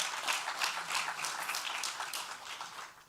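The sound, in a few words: audience applause for teachers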